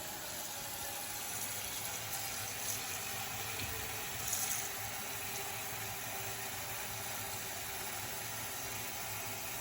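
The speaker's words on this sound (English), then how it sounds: "The first thing we need to do is fill our pot with water." Tap water runs steadily into a cooking pot for pasta, a soft constant rushing stream with no talking.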